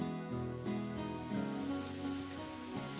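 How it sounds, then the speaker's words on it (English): Rain pours down in the Umineko When They Cry visual novel as a steady, even hiss, layered beneath sustained, tonal background music throughout. "Outside, the rain had started to pour down hard."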